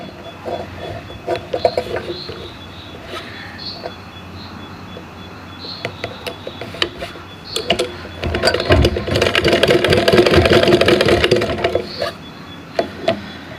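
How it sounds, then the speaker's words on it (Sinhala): A sewing machine stitches a Sri Lankan national kit, with scattered close clicks and taps, then a loud, steady burst of whirring stitching partway through. "මේ පිටට ඇවිල්ලා තියෙන කෑලි මේ ඔක්කොම ඇතුළට කරලා හොඳට මහනවා"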